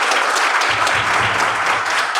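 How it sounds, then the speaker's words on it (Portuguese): An audience at a management talk claps in a brief, steady burst of loud applause. "uma salva de palmas para o Sérgio"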